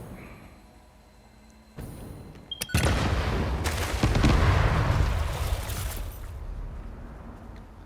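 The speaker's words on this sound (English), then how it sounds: "Big ol' explosion." A big explosion in the factory-building video game Satisfactory: a sharp crack, then a loud rumbling blast that swells and rolls on for several seconds before slowly fading, with no talking.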